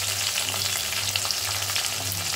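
Tomatoes fry in oil in a pan for palak paneer while being stirred, giving a close, steady sizzle with faint scraping and soft bubbling for a couple of seconds, with no talking.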